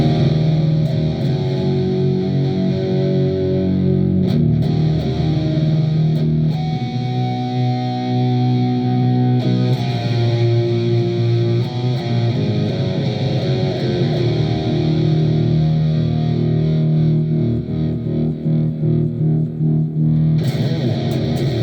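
Heavy distorted electric guitar with Temu pickups plays sustained chords and notes for a long stretch, loud and saturated, with no talking.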